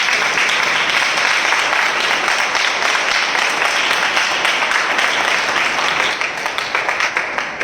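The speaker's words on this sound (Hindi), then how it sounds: "हम जोरदार तालियों से उनका स्वागत करें" A church congregation at a spiritual gathering breaks into loud, dense applause, many hands clapping continuously and evenly before easing slightly at the end.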